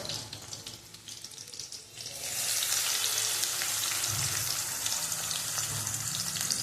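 Tomatoes tumble into a pan of sautéing onion for a drumstick-pod amti, and a quiet hiss swells into a steady, loud sizzle of frying that carries on to the end, with no voices.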